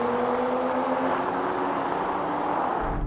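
BMW M340i, Audi S4, AMG E53 and Volvo S60 Polestar cars accelerate hard together from 50 mph in a rolling drag race, a loud, sustained engine roar heard from inside one car.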